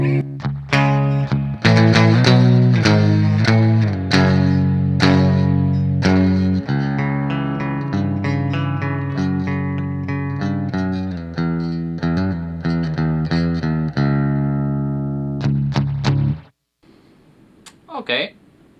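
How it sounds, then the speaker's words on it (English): LTD Horizon Deluxe H-1001 electric guitar on the neck pickup with reverb, played loud and close as a steady phrase of ringing chords and notes, then falling silent apart from a few brief clicks and a short spoken bit at the end. "Now the neck pickup."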